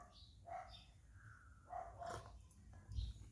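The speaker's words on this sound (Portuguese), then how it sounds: "Os cachorros estão latindo aí." Several dogs bark in short bursts from a distance, the yaps coming in a few separate flurries over a quiet room background with no speech.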